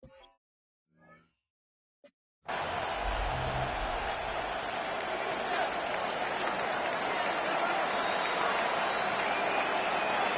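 A football video game stadium crowd roars and cheers steadily and loudly after a few seconds of quiet broken by a commentator's brief speech at the start.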